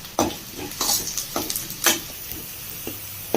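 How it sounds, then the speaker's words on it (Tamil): Onions softening in a pan on the way to a fried goat intestine and blood dish, stirred with a spoon in intermittent scrapes over a light sizzle, close and unvoiced. "இது நல்லா வெங்காயம் நல்லா வதங்கட்டுங்க."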